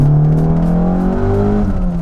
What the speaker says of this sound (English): the K24 has this relentless buzz to it that never lets up